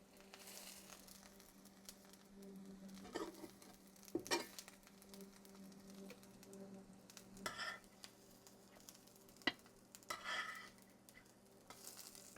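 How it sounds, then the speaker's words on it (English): Lentil sausage patties fry quietly in a pan with a soft, continuous sizzle and occasional scraping and stirring sounds, faint and close, with no talking. "I'm going to let it fry for about a minute on each side"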